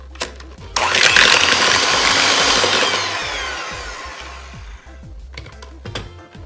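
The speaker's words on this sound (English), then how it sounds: "I have my softened cream cheese, and to that, I am going to add my sugar. And I am just going to mix this until it is creamed together" Softened cream cheese and sugar being creamed together in a bowl with a loud electric mixer, which starts abruptly, whirs steadily for several seconds while gradually easing off, then stops with a few clunks.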